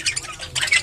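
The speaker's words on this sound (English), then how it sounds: "Wow, look at all these cute little birds." Small birds in a pet store squawking and chirping, a couple of loud, close bursts of high calls within under a second.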